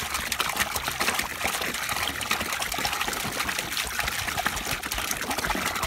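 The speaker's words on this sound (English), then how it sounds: "Another jerrycan of water." Water pours from a jerrycan into an azolla pond, a steady close splashing gush that continues without pause and without voices.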